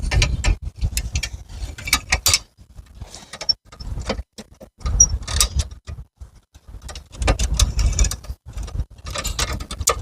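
A fence wire stretcher being loosened, with bursts of rapid ratcheting clicks and metallic mechanism rattles separated by short pauses, close and loud, with no talk.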